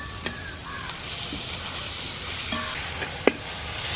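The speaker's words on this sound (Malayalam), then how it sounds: "അപ്പോൾ നമ്മുടെ ഇഞ്ചിയും വെളുത്തുള്ളിയൊക്കെ നല്ലപോലെ മൂത്ത് മണം വരുന്നുണ്ട്." Green chillies, curry leaves and ginger-garlic paste fry in hot oil with a steady close sizzle, broken by a few light clinks and scrapes of stirring.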